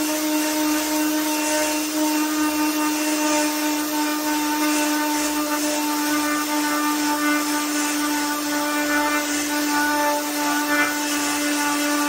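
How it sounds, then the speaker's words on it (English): A steady, loud power-sanding drone runs without a break as wood is sanded, with a bright high whine and a low rumble that swells and dips a little. "let's get sanding and go from there"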